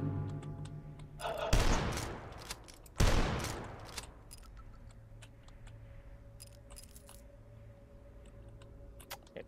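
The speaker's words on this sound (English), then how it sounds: "That'd be a grenade launcher." Two heavy explosive blasts from a grenade launcher in the retro shooter game Dusk, each a loud burst trailing off into a lingering rumble, followed by a low steady hum of game ambience.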